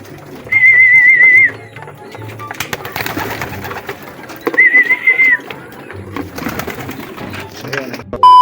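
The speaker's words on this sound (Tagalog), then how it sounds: "magpapalabas ng kalapatids dahil tumatambay sila sa trapdoor." Racing pigeons are released from a loft trapdoor, with flapping wings and coos near and loud, two bright whistling tones standing out, and shuffling and bumping in between.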